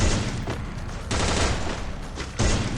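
Video game gunfire from an AWM sniper rifle and an MP40 submachine gun, a burst of loud sharp reports with distinct bursts near the start, middle and end, no talking.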